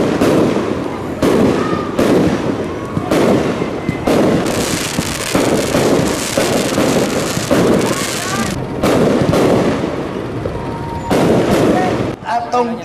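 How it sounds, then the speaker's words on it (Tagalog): Musical fireworks display at a city anniversary celebration in Panabo, a continuous barrage of loud crackling bursts and booms in irregular volleys, with a crowd and voices underneath. "kalit nga napuno sa kolor ug kahayag sa 20 minutos nga musical fireworks display"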